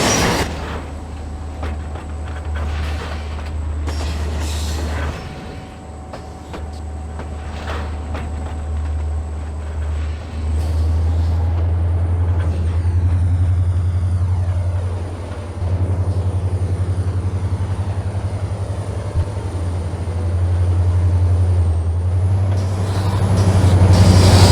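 Train cars derailing and couplers breaking in the Trainz railway simulator game, a steady low rumble of rolling stock with hissing air-brake releases and metallic screeches, loud and continuous, with no voices.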